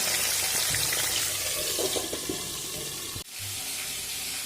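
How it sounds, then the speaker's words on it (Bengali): Bhetki fish bones fry in a pan with a steady, even sizzling hiss that briefly cuts out near the end and then resumes. "দেখুন মাছের কাটাগুলো তো ভাজা হচ্ছে"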